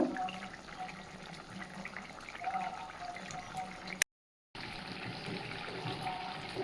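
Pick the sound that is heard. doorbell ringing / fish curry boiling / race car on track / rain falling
fish curry boiling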